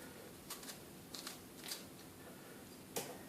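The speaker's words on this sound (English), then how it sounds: "we cut the heads off like this" A knife slices the top off a fresh pomegranate in a few faint, crisp cutting sounds, spaced apart, with one slightly sharper cut near the end in a quiet room.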